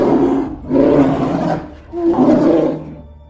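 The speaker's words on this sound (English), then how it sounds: "a massive roar was heard echoing through the woods." Bear roar played from a hidden portable loudspeaker in the woods, two long, loud, growling roars with a short gap between them, close and harsh, with no speech.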